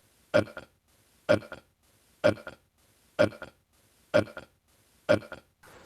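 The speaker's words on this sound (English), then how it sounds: "I know you saw my burp" A person's burp repeats six times in a steady loop, each a short, loud, close belch separated by about a second of near silence.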